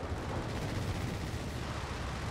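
Stuka dive bombers strafe and bomb in a Company of Heroes 3 4v4 battle on Oasis Depot, giving a dense, continuous low rumble of gunfire and blasts that holds steady, with no talk over it.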